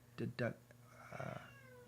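A pet cat gives two short, distinct meows close by, followed by a softer drawn-out meow, with faint room noise between.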